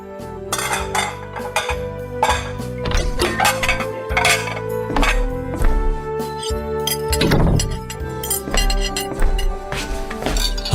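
Ceramic plates, glasses and cutlery clink and clatter repeatedly as a table is set for a home meal, a busy run of sharp knocks and ringing chinks over faint background music, with no talk.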